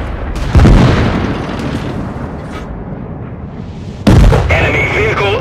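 Two heavy booms from a British FV304 self-propelled gun in the tank game World of Tanks, each a sharp, loud blast with a long rumbling decay. The second blast has a faint high whine over its tail.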